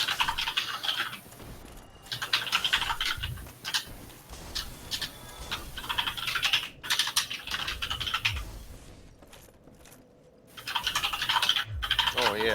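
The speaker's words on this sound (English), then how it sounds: "your keyboard is loud" Computer keyboard typing picked up by a sensitive microphone sitting very close to it, with bursts of rapid clicking clattering in clusters across the clip and brief quiet gaps between them.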